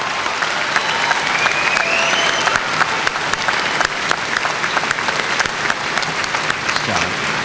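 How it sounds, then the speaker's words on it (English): At the W.F. West High School 2017 graduation ceremony, a large audience applauds the standing honor roll students. Sustained crowd clapping carries sharp individual claps throughout, with a few faint voices murmuring underneath. "Let's give our honor roll students a round of applause."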